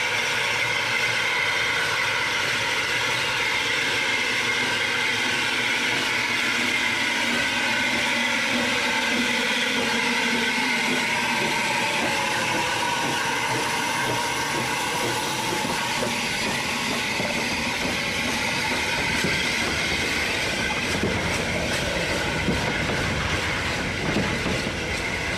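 Steam locomotive No. 65, ex-Sapper, in NCB livery, rolls into the sidings at Ramsbottom with a steady loud hiss and rumble, wheels and wagons grinding continuously throughout, close by with no talk.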